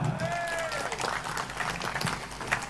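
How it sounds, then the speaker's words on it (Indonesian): A crowd at an Islamic gathering applauds, a quiet, diffuse patter of clapping under a low hum, with a faint voice and a tone sweep near the start. "tepuk tangan"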